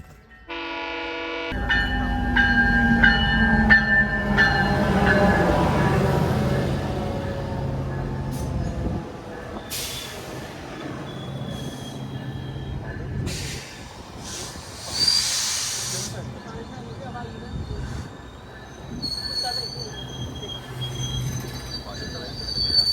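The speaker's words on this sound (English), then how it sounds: "train is pulling in right now" A Via Rail passenger train pulls into a station, opening with a horn blast followed by a long rumble and high squealing of wheels as it slows, with hissing brakes and fainter scattered squeals as it comes to a stop.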